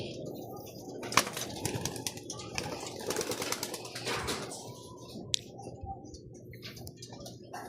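Pigeons moving about a loft or coop, with soft coos, wing flaps and scattered taps and clicks, one sharp knock early on, all at moderate level with no talking.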